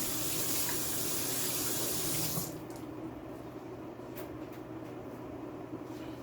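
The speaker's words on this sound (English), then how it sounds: "wash my hands" Water runs steadily from a kitchen tap for hand washing, a loud hissing stream for a couple of seconds that then cuts to a quieter trickle and drips in a home kitchen.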